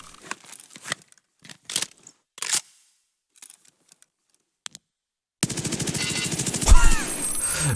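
A SIG MCX Spear 6.8x51 rifle fires in a video game. Sparse light clicks and rustles come first, then a loud, close, sustained stream of rapid automatic shots.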